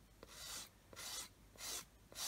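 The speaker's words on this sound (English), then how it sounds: "I'm going to take a coarse sanding stick and just go across here." A coarse sanding stick rasped across a small plastic part of a 1/48 scale model kit, four steady back-and-forth strokes, quiet and close, with no voices.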